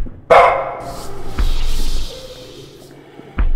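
A dog barks in the horror video game Lost in Vivo: one loud, sharp bark up close, then a dark rumbling ambience with faint noises and a brief knock at the end, no speech.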